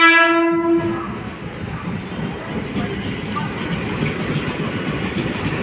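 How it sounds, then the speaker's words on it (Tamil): A train horn blares briefly at the start, then an Arakkonam to Chennai Central commuter train rolls past close by at Sevvapet, with a steady roar and faint rhythmic clatter. "இந்த ட்ரெயின் அரக்கோணம் டு சென்ட்ரல் செல்கின்ற ட்ரெயின்"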